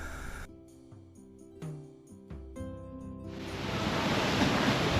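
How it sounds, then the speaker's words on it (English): After a few tonal notes, a steady broadband rush of water spraying from a statue fountain in Copenhagen rises and continues, loud and close, with no voices. "the water spraying out of their nostrils, looking like steam"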